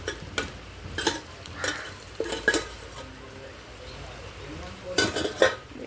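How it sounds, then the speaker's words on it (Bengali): Onion, ginger and garlic paste frying in a pan for a mutton curry, with a steady soft sizzle broken by several sharp scraping stirs and utensil knocks against the pan. "এটা একটু লাল লাল করে ভেজে নিই"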